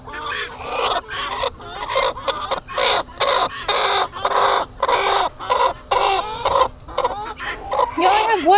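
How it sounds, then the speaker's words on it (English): Guinea fowl and chickens call loudly and repeatedly in a farmyard coop, a dense run of harsh, rhythmic squawks and clucks close by, with a brief voice in the background. "the guineas are being really loud"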